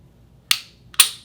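Two sharp dry clicks about half a second apart from a Glock 19 Gen 5 fitted with a 3-pound Timney trigger, close and crisp against near silence.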